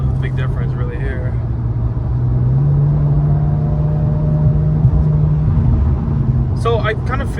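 A 2018 Infiniti Q50 Red Sport's V6 idles with a steady low rumble, engine tone rising slightly midway, while someone talks over it at the start and end.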